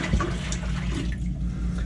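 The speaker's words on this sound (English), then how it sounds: "The soap we used to wash off the thing is gonna flush a little bit of soap through the bilge" Soapy water rushes through a sailboat's bilge with a steady, close, gurgling wash of flowing water, heard without any talk.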